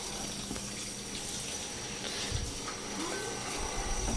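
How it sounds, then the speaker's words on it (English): Tap water runs steadily over hands being washed with soap at a kitchen sink, a continuous close hiss and splash with no talk. "Washing hands. Get your soap on there."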